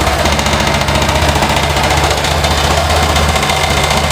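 A 2021 Honda Scoopy scooter engine idles steadily just after starting, a constant low mechanical hum and rattle heard up close with no talking.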